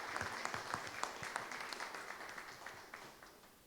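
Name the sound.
applause in a municipal council session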